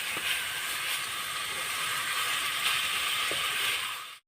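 Grated raw potato tumbles onto spices frying in a pan, giving a steady broad sizzling hiss with a couple of faint soft knocks, close and continuous, then cutting off abruptly.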